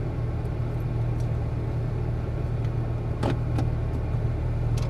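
A Porsche Turbo S idles with a steady low engine rumble inside the cabin as it is put in gear, with a few faint clicks over the constant drone.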